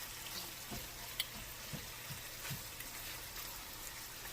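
Chicken seasoned with white pepper fries in a pan, with a soft, steady sizzle and occasional light pops and stirring scrapes, fairly quiet and without talk.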